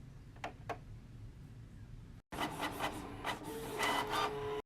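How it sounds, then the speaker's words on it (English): A home printer runs a sheet of digital paper through to print a template, first with a couple of faint clicks, then after a brief gap a louder whirring feed with mechanical ticks and a rising whine, all close and without voices. "run your digital paper one more time through the printer"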